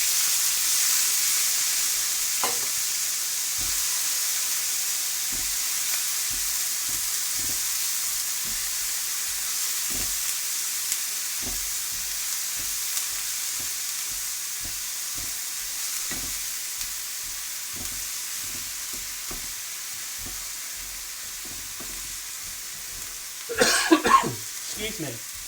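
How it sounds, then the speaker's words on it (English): Pureed ginger sizzling in a hot pan with spices during chicken curry cooking, a steady frying hiss with scattered stirring clicks, a cough partway through and a louder clatter near the end. "get that pureed ginger in, and it will make a bit of noise"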